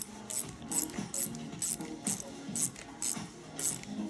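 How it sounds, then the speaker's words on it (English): A gear puller draws the freehub driver out of a Profile Elite bicycle hub, giving a steady series of about ten close, sharp ratcheting clicks at an even rhythm, with no talking. "It's starting to pull the freehub driver out."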